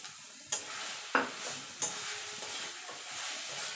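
Mashed banana stem being stirred in a pan with raw mustard oil drizzled over it, a steady soft scraping sizzle broken by three sharp clinks of the spoon against the pan, close and alone.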